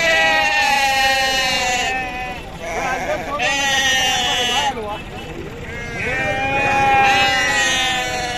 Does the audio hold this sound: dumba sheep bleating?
yes